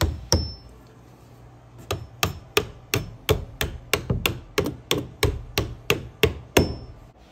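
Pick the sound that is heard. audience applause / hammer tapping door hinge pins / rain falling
hammer tapping door hinge pins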